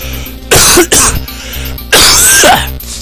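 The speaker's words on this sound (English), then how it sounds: "And now I cough." A man coughs hard into a close microphone after straining his throat, two loud, rough bursts of coughing with a throaty rasp, over quiet music from a Naruto Path of the Ninja game playing in the background.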